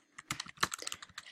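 Quick typing on a computer keyboard, a short burst of close, crisp key clicks in an uneven rhythm, fairly quiet, with no voices.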